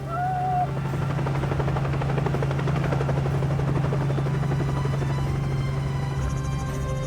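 A helicopter ride around an archipelago, heard as a loud, steady rotor drone with a constant low hum and chopping texture, heard from inside the cabin without break.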